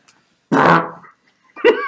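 Two short farts, a rasping burst followed after a pause by a second, shorter squeaky one, close and alone.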